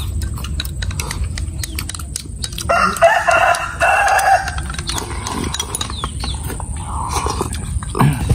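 A farm chicken flaps its wings and crows loudly, with several clucking calls over a steady rustling background; no one speaks.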